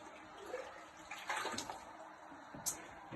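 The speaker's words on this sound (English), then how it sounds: "we're going to gently pour the hot treated water at 70 degrees on the surface to wash it through" Hot treated water at 70 degrees is poured gently onto a grain mash bed while brewing a Brut IPA, giving a soft, faint splashing trickle with a few louder swells.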